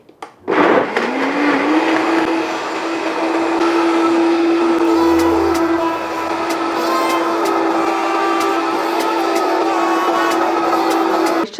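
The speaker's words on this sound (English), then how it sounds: "So we're gonna go ahead and blend it." A blender purees raw vegan hot avocado salsa with avocado, cayenne pepper and Himalayan salt, roaring loud and close as it spins up at once and keeps a steady high-pitched whine until it cuts off.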